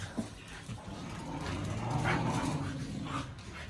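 Several dogs at a dog and cat shelter bark and whimper in a steady, moderately distant chorus, with a busy noisy background and no clear talk.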